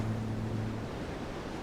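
Ocean waves and surf make a continuous broad rushing roar, loud and close, with a low steady hum underneath during the first half.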